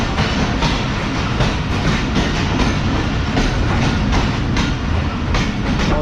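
The Pakistan Express train rolls through platform 3 at a station, a loud continuous rumble with steady clickety-clack of wheels over rail joints close by.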